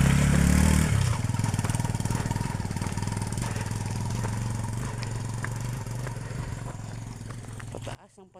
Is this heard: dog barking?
no